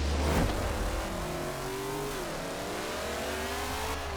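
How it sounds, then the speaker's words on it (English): A car driven in the racing game Forza Horizon 4, tuned to an 800 rating, holds a steady engine drone with rising and falling revs through gear changes, loud and continuous, with no talk. "and now we're just driving."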